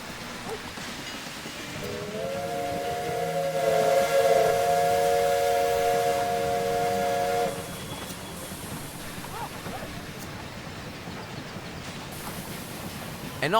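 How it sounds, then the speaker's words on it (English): A steam locomotive whistle sounds as a train arrives at a station in the video game Railway Empire 2, a sustained multi-tone blast lasting several seconds over a steady hissing background, then fading back into ambient hiss. "Now let's wait for the train."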